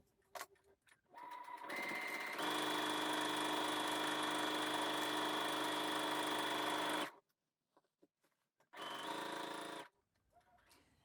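A sewing machine stitches the crotch seam of pyjama pants in one long steady whirring run of about five seconds, then stops, followed by a shorter second burst, close and loud with no talk.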